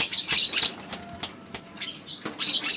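Lovebird chicks chirp inside a nest box in short, high, close bursts, with soft rustling and faint taps between the calls.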